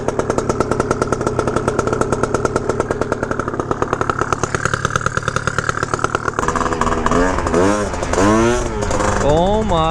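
Gilera Runner 172cc scooter engine with upgraded gears starts up and runs with a loud, close, rapid pulsing beat, then revs and pitches up and down while riding off, with people talking over it.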